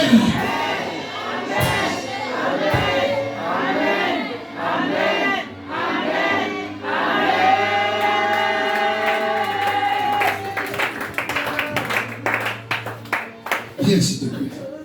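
A church congregation shouts together in a loud, sustained collective roar of voices, with bursts of cheering and clapping rising and falling across the passage.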